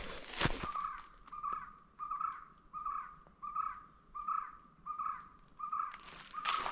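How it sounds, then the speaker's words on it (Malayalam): A crow caws repeatedly in a regular rhythm, about eight calls spaced roughly every three quarters of a second, moderately near and clear against a quiet wooded mountain trail. "ഒത്തിരി പക്ഷികളുടെ പല പല ശബ്ദങ്ങൾ കേൾക്കാം."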